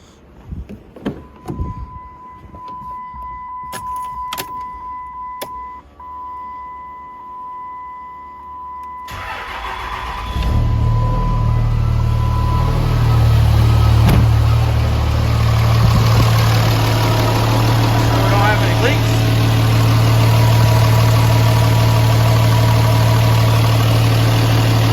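Diesel engine of a Mega Cab truck fitted with an S475 turbo cranks and fires after some quiet clicks and shuffling, then settles into a loud, steady, close idle with a constant low rumble.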